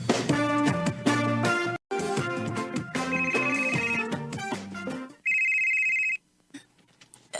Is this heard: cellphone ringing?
yes